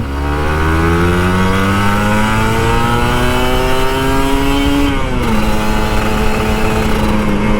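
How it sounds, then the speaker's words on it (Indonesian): A Kawasaki Ninja RR motorcycle engine revs loud and close, pitch climbing steadily, dropping briefly, then holding high; no talking. "Ninja RR ngegas mulu tiap pagi."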